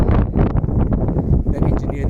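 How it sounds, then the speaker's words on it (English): Cold, gusty wind on Table Mountain buffets the microphone in a steady low roar with rough surges, close and loud throughout. "It's a very cold and windy day here."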